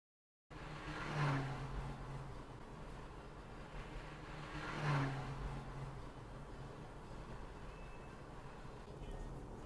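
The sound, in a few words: fire engine driving towards the camera car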